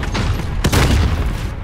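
A grenade blast in Call of Duty: Modern Warfare, a single heavy boom with a rumbling tail, loud and close amid continuous game noise.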